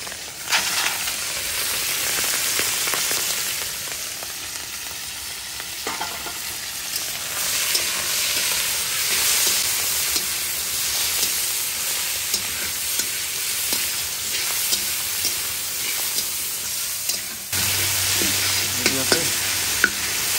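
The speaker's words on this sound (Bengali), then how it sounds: "তো চলো চিংড়ি মাছটা দিয়ে দেওয়া যাক। চিংড়ি মাছটা নুন হলুদ মাখিয়ে দেবো।" Prawns coated in salt and turmeric fry in a pan with a steady, close sizzle while being stirred, with scattered scraping and clicking from the stirring.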